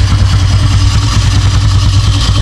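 A carbureted engine idles steadily and close by, its low, even pulsing throb continuous and fairly loud, with no voices.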